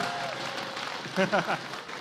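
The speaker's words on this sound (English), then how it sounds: "Everyone, give a round of applause." A short burst of applause from a small crowd at a Vainglory 5v5 pre-launch party, with a brief voice cutting through near the end.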